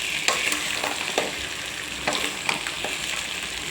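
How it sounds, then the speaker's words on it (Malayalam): Squid eggs fry in hot oil with a steady close sizzle, while a utensil stirs them in a few scraping strokes. "നമുക്കിത് ഇളക്കി ഇളക്കി കൊടുക്കാം അല്ലെങ്കിൽ അടി പിടിക്കും"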